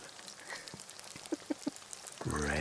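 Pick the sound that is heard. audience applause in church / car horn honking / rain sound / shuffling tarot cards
rain sound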